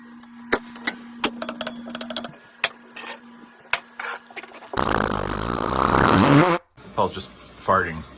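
A loud, raspy fart blares for about two seconds after a stretch of scattered clicks and knocks, with a brief silence and then some muffled noise after it.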